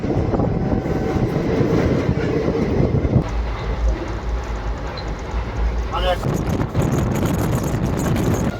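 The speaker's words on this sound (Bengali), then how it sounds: "ছেড়ে দিচ্ছে আমাদের ট্রেন পুরীর উদ্দেশ্যে" The Sri Jagannath Express from Shalimar to Puri rumbles along the track, a steady close roar of wheels and wind with a quieter stretch midway, while a voice talks over it.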